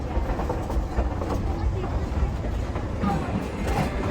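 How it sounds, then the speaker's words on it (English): Durango and Silverton narrow gauge train crawling slowly along a granite cliff ledge high above the Animas River in the San Juan National Forest, a steady low rumble of wheels and cars with some irregular clanks and rattles. "The train slows to a crawl here, clinging to its perch high upon the granite cliffs"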